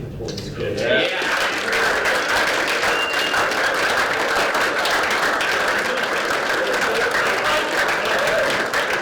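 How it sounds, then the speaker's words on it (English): Audience applause for a female contestant, steady and dense clapping that fills the whole stretch at a consistent loud level, with crowd noise mixed in. "we're going to applaud you"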